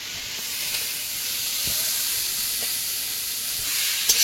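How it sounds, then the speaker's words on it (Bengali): Chopped onion and ginger-garlic paste sizzle steadily in hot oil, a continuous bright frying hiss that holds at an even level throughout, with a few faint clinks near the end. "এর মধ্যেই পেঁয়াজ কুচি দেবো, আদা রসুন বাটা সব এই তেলের মধ্যেই দিয়ে দিচ্ছি।"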